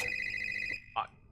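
A telephone rings in the Cookie Run: Sweet Shifts video game, a steady buzzy electronic trill that cuts off, followed by a short click or pickup sound, with a voice briefly nearby.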